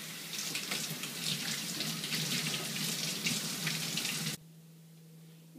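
Tap water runs steadily into a sink while a ceramic food bowl is wetted, a close, even splashing rush that stops abruptly near the end, leaving a quiet room.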